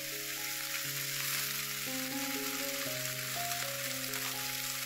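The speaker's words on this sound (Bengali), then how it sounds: "কড়াইয়ে সরষের তেল দিয়ে ফোড়ন দেব জিরা, তারপরে শাক দিয়ে দেব" Cumin and Malabar spinach sizzling in mustard oil in a kadai, a constant close hiss of frying with steady background music throughout.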